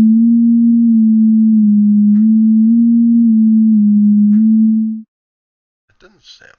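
A Pure Data synthesizer plays a pure, steady low sine tone for about five seconds, with slight MIDI pitch-bend steps up and down, then cuts off. A faint voice follows.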